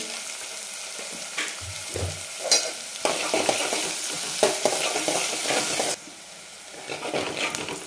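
Onion fries and sizzles steadily in a pan over a high gas flame, stirred now and then with scraping and clinking strokes, close and continuous, with no voices, as a spicy chicken curry gets going.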